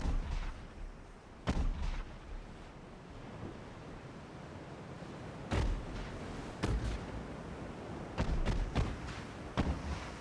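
Heavy warship guns booming in the naval game Ultimate Admiral Dreadnoughts, sharp loud blasts spaced irregularly, some in quick pairs, over a continuous wash of ocean surf and wind.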